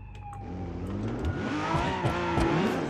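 Cars sliding with tires squealing in the BeamNG driving game during a multiplayer session, a steady engine roar under rising, wavering squeal tones that build through the clip, loud and close.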